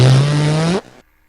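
A loud, low buzzing engine tone that rises slightly in pitch, then cuts off abruptly, sounding like a rattly exhaust blat.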